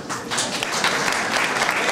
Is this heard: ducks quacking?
no